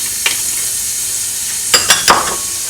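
Garlic sizzles in a hot pan for chicken arroz caldo, a steady hiss broken near the end by a few quick scraping stirs of the spatula.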